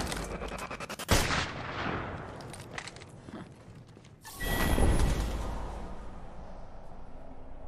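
Gunfire from a gun in the Apex Legends video game, with a sharp burst near the start and a louder rapid volley later, alone without talk.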